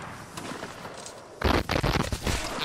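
A burst of musket shots from a Napoleonic Wars line battle, several loud cracks in quick succession after a quieter stretch of distant battlefield noise.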